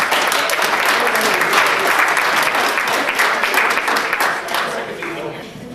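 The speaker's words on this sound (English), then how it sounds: "Big round of applause, please." Loud audience applause at a gala welcoming a singer to the stage, a thick burst of many hands that stays strong, then thins and fades toward the end with some crowd noise mixed in.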